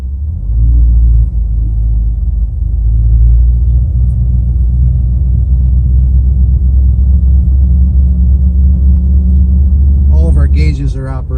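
A 1958 Chevrolet Impala California coupe rumbles steadily from inside the cabin while driving, a deep continuous engine drone that holds throughout, with a voice briefly at the end.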